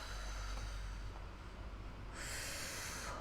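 A breathy exhale during a yoga flexibility workout, a continuous soft hiss close to the mic, ending in a brighter burst of air near the finish.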